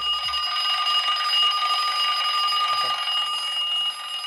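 A steady electronic alarm clock for heavy sleepers rings continuously at close range, a bright sustained multi-tone beeping that holds without pause.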